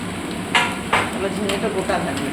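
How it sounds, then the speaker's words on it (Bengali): Spice paste cooks in a pan over low gas, a soft sizzle under a few scraping stirs of a spoon against the pan, close and quiet. "একদম গ্যাস কমিয়ে ভালো করে মশলাটা কষাবো।"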